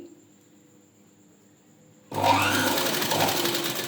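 A sewing machine stitching blouse sleeves, near silence giving way to a sudden run of fast, steady mechanical whirring and clatter close by.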